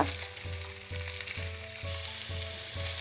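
Green beans fry in a pan for a mixed vegetable dish, giving a continuous sizzle with regular stirring scrapes about every half second, close and moderately quiet.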